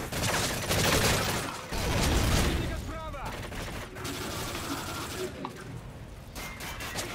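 Bursts of rapid automatic gunfire in Modern Warfare 3 survival mode, loud close volleys broken by short pauses and mechanical clatter, with voices talking over parts of it.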